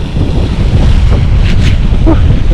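Strong wind buffets the microphone during bass fishing in gusty 25 mph conditions on open water, a loud, steady low roar filling the whole stretch with faint water sounds beneath.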